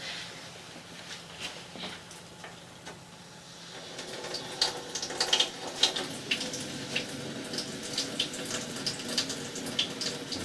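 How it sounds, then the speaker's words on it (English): Water running from a tap, quiet at first then splashing louder after a few seconds, a continuous patter with small drips. "I'm going to have to turn a little bit of water on"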